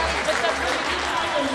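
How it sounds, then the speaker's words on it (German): Brief burst of crowd applause in an indoor hall at a women's futsal tournament award ceremony, a continuous dense clatter of many hands with a voice talking over it. "Auch euch einen Applaus."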